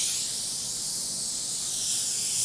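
A paint spray gun, trigger only lightly pulled, lays a little color over an edge, giving a steady, close hiss of air and spray that holds evenly for a couple of seconds, with no talk.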